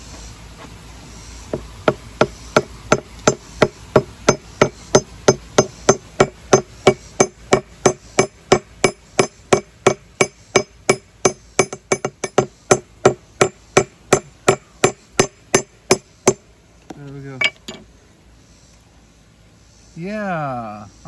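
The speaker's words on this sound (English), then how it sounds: "We're going to try and see if the freeze and thaw works so it'll split easier if I hammer them." Rocks holding Mazon Creek fern fossils, frozen to help them split, struck with a hammer: about forty sharp, evenly spaced blows ring out close and loud, then a brief scrape and a short burst of voice at the end.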